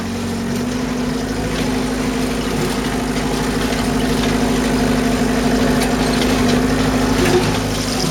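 An off-road buggy engine runs steadily in first gear in a forest, a continuous low, rough drone at moderate volume with no voices over it.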